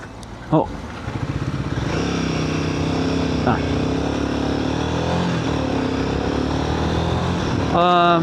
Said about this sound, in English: riding towards my friend Leon.